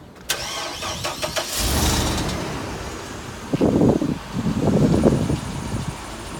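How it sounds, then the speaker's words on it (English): The engine of a 2006 C7500 forestry bucket truck cranks with a short whirring starter, catches, and settles into a loud, close, steady idle with rhythmic low pulsing. "now we will start up the big motor and let you listen to it run."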